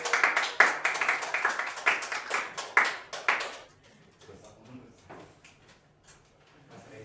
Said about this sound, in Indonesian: Baik, tepuk tangan terlebih dahulu.